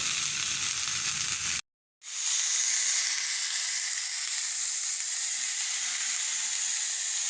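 Cauliflower and potato frying in oil in a pan, a loud continuous hiss and crackle that drops out for a moment, then returns just as strong and steady.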